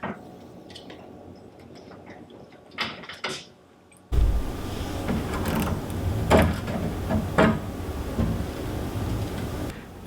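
Metal lock bolt being worked off a wooden cabinet, a few close clicks and rattles, then a louder stretch of scraping, knocking mechanical handling.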